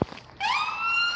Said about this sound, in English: You can hear the siren ambulance.